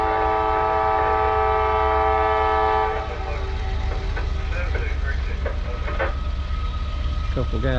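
A train rolls past a crossing in Folkston, Georgia, its horn sounding as steady sustained tones for the first few seconds over a constant low rumble, then wheel clatter and metallic clanks continue at close range with no talk.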